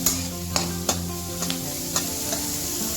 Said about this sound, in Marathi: कांदा भाजून घ्यायचा आपल्याला. आपण सोनेरी रंगाचा होईपर्यंत भाजायचा